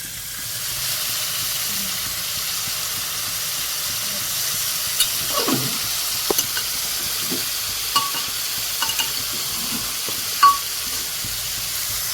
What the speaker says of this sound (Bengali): এবার এর মধ্যে চিকেনটা দিয়ে দেবো, দিয়ে একটুখানি ভালো করে আর কি ভাজবো চিকেনটা